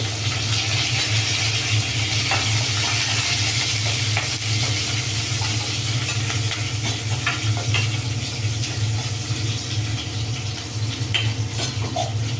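A tempering of cumin, chilli and curry leaves fries in hot oil, a steady close sizzle with crackling and occasional stirring scrapes, under a low constant hum.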